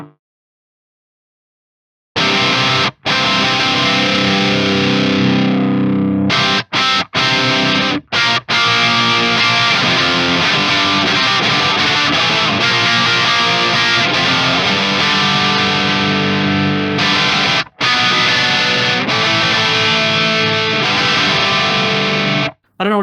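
A Marshall amp in OD1 orange mode drives an overdriven electric guitar into thick, loud distorted chords and riffs, with a few brief stops between phrases, close and without any talking.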